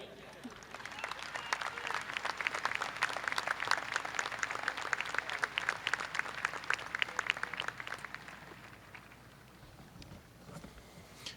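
Graduation audience applauding in a large hall, a dense, steady wash of many hands clapping that holds strong for about eight seconds, then thins and fades toward the end.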